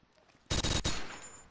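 Gunfire in the Blockade3D first-person shooter game, a loud sharp burst of two close cracks with a brief gap between them, then a decaying echo tail.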